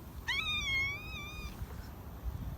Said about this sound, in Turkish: Arkasında bir kedi daha var.